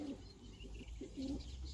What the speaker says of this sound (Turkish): Matbaacı kuşlarını biliyorsunuzdur herhalde arkadaşlar. Ankara'nın çok meşhur kuşları.